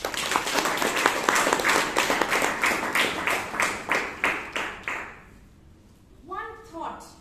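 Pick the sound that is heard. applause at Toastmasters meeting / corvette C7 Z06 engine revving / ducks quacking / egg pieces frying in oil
applause at Toastmasters meeting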